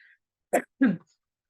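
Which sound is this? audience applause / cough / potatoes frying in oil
cough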